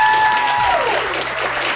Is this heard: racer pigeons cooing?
no